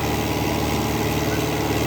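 New Holland 850 tractor engine running steadily while pulling a super seeder, a loud continuous low rumble with constant mechanical drone and no pauses.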